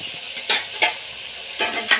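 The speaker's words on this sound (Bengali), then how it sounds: "আর 2 মিনিট এরকম করে কষে নেবো মশলাগুলো।" Spice paste stir-fried in hot oil in a pan for a river fish curry, a steady close sizzle broken by four scraping strokes of a spoon against the pan.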